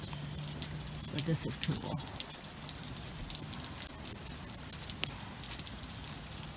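Steady rain patters and drips outdoors in Lake Elsinore during a cold storm with slush on a deck, a close, continuous wet hiss with scattered drops while someone briefly speaks over it.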